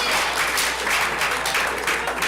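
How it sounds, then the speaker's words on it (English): An audience at a fall varsity athletics awards ceremony gives a round of applause, a dense, steady burst of clapping filling the room. "so give everybody one more round of applause."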